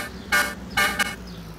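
Tractor horn in Farming Simulator 22, a New Holland T7, sounding two short close toots in quick succession with a brief third blip, set against a faint steady background hum.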